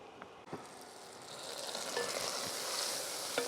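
Onions sweating in a lidded pan with melted butter and olive oil give a soft, steady sizzle that builds slightly over the span, with a few faint clicks and no talking.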